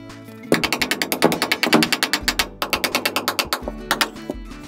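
Anchor bolts being tightened into a concrete wall to secure a wall-hung toilet frame, loud rapid ratcheting bursts in quick mechanical rhythm, several runs separated by short pauses, close and alone.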